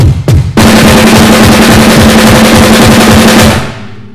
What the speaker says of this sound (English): a way you could break it down to understand it a little bit better would be just to have the bass drum on the right going